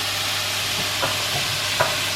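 Stuffed chicken rolls fry in a pan over high heat, giving a steady broadband sizzle with a few soft stirring knocks near the end, no voices.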